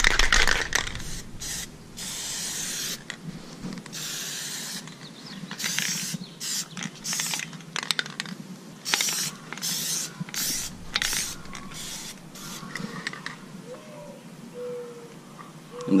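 Plasti Dip aerosol sprayed onto the grille of a 2017 Toyota Tacoma, a series of hissing bursts of varying length with short pauses between them, fairly close and steady, with no talking.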